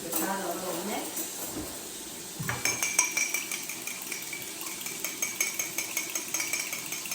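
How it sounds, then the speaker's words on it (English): A fork whisks egg and vinegar in a measuring cup, giving a steady run of quick light clinks and taps that starts partway in and continues, close and moderately loud over faint kitchen background. "let me go to the fork, give that a little mix"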